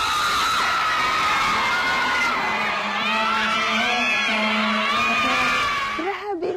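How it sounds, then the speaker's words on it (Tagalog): Thousands of people at a Christmas party event shout and cheer in a sustained loud roar with high shrieks and whoops, the din dipping near the end as a voice breaks through. "Grabe ang sigawan ng tao."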